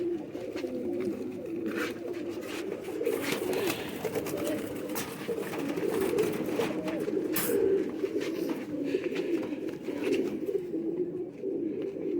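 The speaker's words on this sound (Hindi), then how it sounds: "सबसे पुराना बटेरा कबूतर उनका।" Pigeons of an old Batera breed coo steadily in a loft, low throaty burbling calls repeating and overlapping at close range, with faint rustles and occasional sharper noises in the background.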